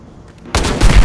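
Grenade going off in the game Battlefield Hardline: after a quiet lead-in, a sudden loud blast hits, followed by a second heavy boom and rumbling debris close at hand.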